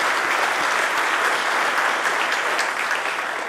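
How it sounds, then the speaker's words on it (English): Steady applause from a gala audience at a historical society event, a dense continuous wash of many hands clapping at even loudness for the whole stretch, with no voices over it. "give them a hand, round of applause"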